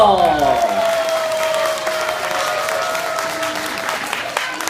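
Audience applauding at a children's stage performance: steady, dense clapping from a crowd, loud and sustained throughout, following a brief swell of music at the start.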